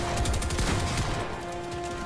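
A rapid burst of gunfire rattles out in Fortnite, a few sharp shots at the start that fade into a quieter tail.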